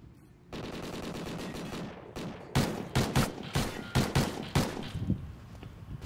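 Automatic gunfire in Call of Duty Ghosts: a sustained loud burst, a short pause, then a string of rapid, punchy bursts with sharp rhythmic cracks.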